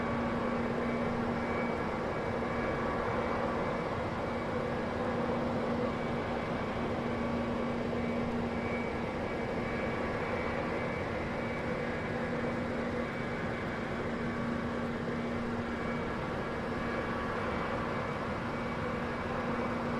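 A jet airliner takes off in Microsoft Flight Simulator X, giving a steady, continuous engine roar with a constant hum throughout, no talking.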